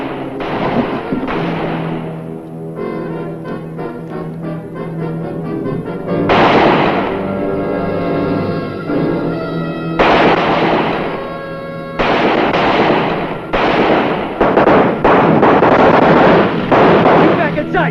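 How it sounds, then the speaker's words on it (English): Gunfire rings out outdoors in a western drama, with several sharp bursts at intervals over dramatic orchestral music, some shots louder and nearer than others. "Well, that's shooting down there."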